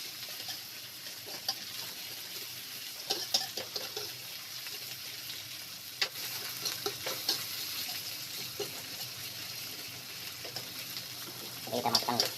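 Chili, tomato and shallot stir-fry in a pan for a simple anchovy dish, giving a steady hiss with scattered spatula clicks and clatter that build near the end.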